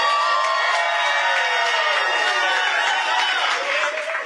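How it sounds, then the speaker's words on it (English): An audience at a New York City mayoral primary night event for candidate Diana Richardson Myers cheers and shouts for her son Isaac, a loud sustained crowd roar with whoops and raised voices throughout. "Let's give him a round of applause"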